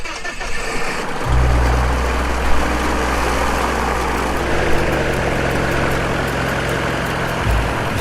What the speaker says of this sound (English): Wiesel sets out in a plane every 2 months and makes her rounds over the Sperrgebiet in the southern Namib